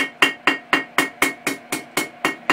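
A hammer strikes steel on an anvil in about ten small, evenly spaced hits, each a bright ringing clang that decays quickly, close and steady in rhythm with no talking.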